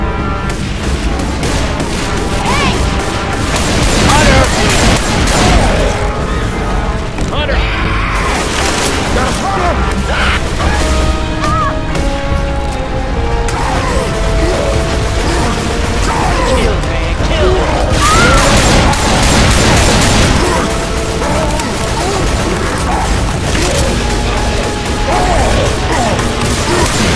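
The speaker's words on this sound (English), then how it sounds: "Shoot that zombie in the back!" Gunfire and explosive booms from the zombie shooter Left 4 Dead 2, dense and loud throughout, with repeated bursts and crashes layered over game music and effects.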